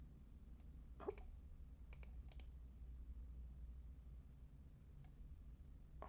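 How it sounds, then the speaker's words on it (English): A few faint, sharp computer mouse clicks, a right-click among them, scattered singly and in quick pairs over quiet room hum. "I'll simply right click"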